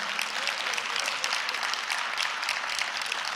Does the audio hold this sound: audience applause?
yes